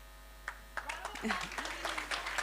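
At a startup expo, a crowd begins applauding the Plug and Play Armenia team, a few scattered claps at first that thicken into moderate, close applause over a steady low hum, with voices mixed in.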